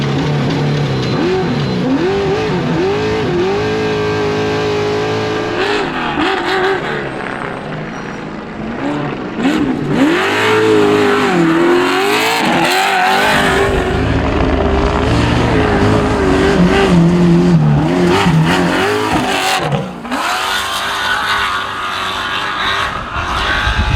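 A trophy truck races along a beach during the Baja 1000, its loud engine revving and shifting through repeated rising and falling pitches, heard close and continuous with wind buffeting and no talking.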